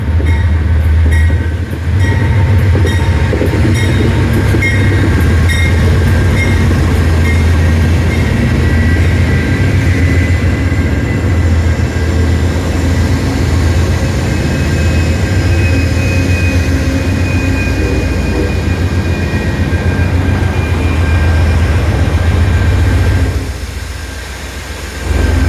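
A New River passenger train hauled by three locomotives rolls past in Hinton, West Virginia, a loud, sustained rumble of engines and wheels with a low droning hum that stays close and steady before easing off near the end.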